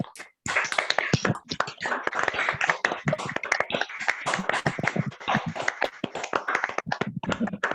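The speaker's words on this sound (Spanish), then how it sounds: "Las invito a todas a desmutearse y aplaudir por este encuentro" Participants on an online feminist marathon closing call clapping together, dense uneven applause from many hands through unmuted microphones, loud and continuous throughout.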